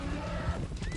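A loose stallion in Red Dead Redemption 2 lets out a short, close whinny with a hoof clop or two, the game's horse sounds brief and moderately loud.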